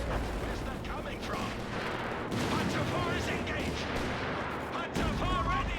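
Tank gun and artillery fire in the Company of Heroes 3 strategy game, a dense, continuous rumble of booms and blasts with a sharper shot near the end, under steady commentary.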